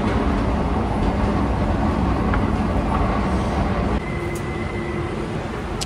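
Metro train noise inside a station in Bilbao, a steady loud rumble of rolling wagons that drops slightly partway through, with a faint high whine emerging near the end.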